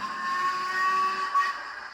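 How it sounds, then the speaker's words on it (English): A Hornby Coronation model locomotive's HM7000 sound decoder gives a sustained steam whistle: a steady high tone with hissy breath behind it, held for about two seconds at moderate loudness. "Do a nice whistle"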